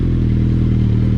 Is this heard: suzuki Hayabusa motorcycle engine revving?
yes